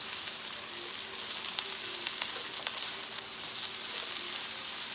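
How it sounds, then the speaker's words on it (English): Beet greens and stems sautéing in a pan, a steady dense sizzle and crackle throughout with faint occasional pops, close and continuous with no talking. "So we want to saute everything."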